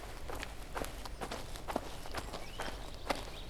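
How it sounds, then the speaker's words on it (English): Procedurally generated video game forest ambience with a steady, hushed outdoor bed and regular footsteps crunching along at a walking pace, quiet and fairly close, without speech. "you could create an ambient sound that plays a forest sound around you, and that's actually what you're hearing in this video"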